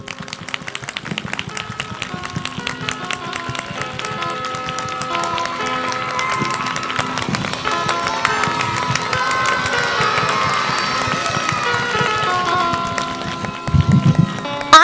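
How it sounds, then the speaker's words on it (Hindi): A church congregation claps loudly in a dense, continuous roar, with scattered cheers and shouts from the crowd swelling toward the middle and end. "आइए हम धन्यवाद दें जोरदार तालियों के साथ"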